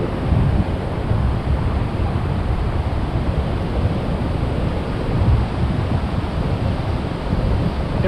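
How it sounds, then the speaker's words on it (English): Steady roar of ocean surf washing onto a beach, loud and continuous with wind rumbling across the microphone. "And watch out for the waves."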